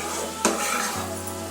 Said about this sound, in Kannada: ಇದೊಂದು 5 ನಿಮಿಷ ಫ್ರೈ ಮಾಡಿಕೊಂಡ್ರೆ ಆಯ್ತು